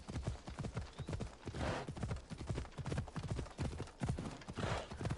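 Horse hooves clip-clopping in Assassin's Creed Odyssey, a steady close rhythmic trot of hoof strikes running for several seconds with no talk over it.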